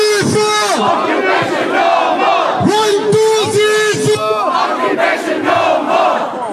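Large protest march crowd chanting and cheering together in loud, rhythmic swells, voices overlapping in repeated calls that rise and fall across the whole stretch, close and dense.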